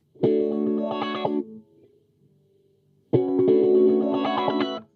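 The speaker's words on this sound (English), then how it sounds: "I like the delay. That's kind of neat." Two bursts of electric guitar chords through a delay pedal, separated by a quiet gap where a faint echoing tail lingers, the effect repeating the notes softly.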